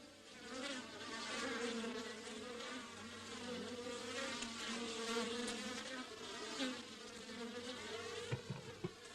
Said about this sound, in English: now he had over 100 hives of bees